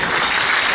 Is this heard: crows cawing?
no